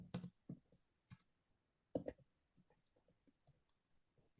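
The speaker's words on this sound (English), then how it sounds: "I'm just typing that right now," Computer keyboard typing, sparse irregular clicks and short bursts of keystrokes, close and fairly quiet with pauses between.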